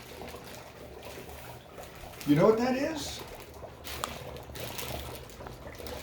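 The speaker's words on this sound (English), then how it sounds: "That's the carbon dioxide boiling and is turning into gas" Dry ice poured into a glass of water sets off a sudden burst of bubbling and fizzing that eases into quieter gurgling, with a voice speaking over it.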